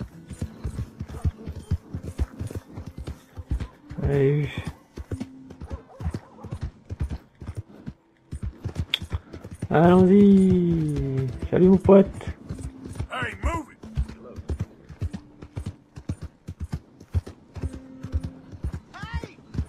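Horse hooves clip-clop in steady rhythm in Red Dead Redemption 2, with occasional whinnies, while a person speaks several short lines over the trotting.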